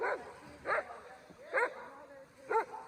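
Sled dogs at an Iditarod checkpoint near Trapper Creek in Willow give four evenly spaced yipping barks, fairly close and moderately loud, over a low background murmur.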